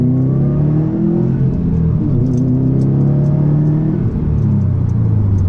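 A Subaru WRX STI with a Borla catback exhaust roars as the throttle is pressed, a deep rumbling engine note climbing and falling in pitch, steady and loud without voices.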